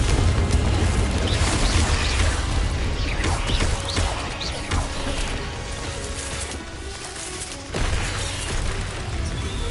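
The Confringo spell blasts in Hogwarts Legacy on PS5, a loud booming explosion with crashing debris and rumbling game effects that fade, then a second burst near the end.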